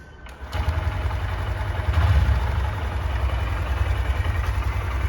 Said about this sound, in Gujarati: હવે ચાલુ કરું છું બાઇકને.